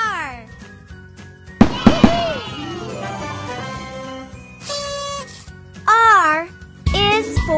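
Cartoon rocket sound effect in a children's ABC learning app: a sharp crackling launch with a rising whistle, set among bright tinkling chimes and a narrating voice.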